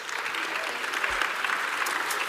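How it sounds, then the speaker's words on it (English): Conference audience applause, a dense steady burst of many hands clapping at once, filling the room for a couple of seconds with no voices over it. "A round of applause, please."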